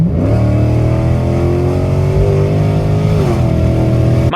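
A 2009 Mercedes C63 AMG V8 revs loudly up close, a deep sustained engine roar that climbs and holds, then dips slightly near the end.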